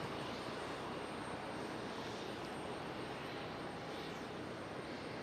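An Embraer ERJ regional jet at Charlotte Douglas airport roars as a steady, distant broadband rumble, a continuous wash of engine noise with no voices.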